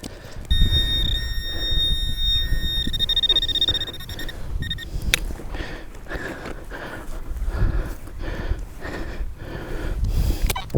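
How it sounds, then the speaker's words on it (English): A camera's electronic alarm gives a steady high beeping tone early on during a metal detecting outing, then stops, leaving handling noise, rustling and breathing close to the microphone. "Check the boring alarm on the camera"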